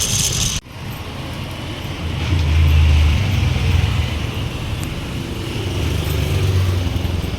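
Steady engine and road noise from a motor vehicle being driven, a broad continuous rumble that swells in the middle and holds through to the end, with no talking.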